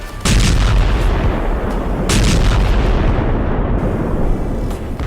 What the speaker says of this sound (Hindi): अचानक जोरदार धमाके होते हैं